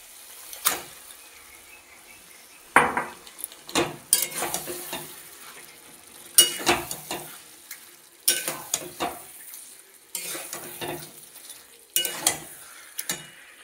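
Chicken pieces go into a pan of fried spice masala and are stirred, with sizzling frying and repeated spoon scrapes against the pan coming in regular bursts, close and clear with no talking.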